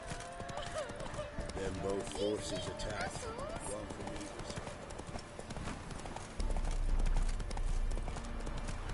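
Horse hooves clip-clop steadily in The Witcher III video game, a brisk, continuous trot that runs throughout under game dialogue and ambient sound.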